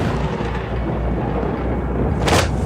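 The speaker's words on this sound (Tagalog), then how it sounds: "nagsasalimbayan ng kulog at kidlat" A deep thunder rumble rolls through a storm for a narrated horror story, steady and loud, with a sharper crack bursting near the end.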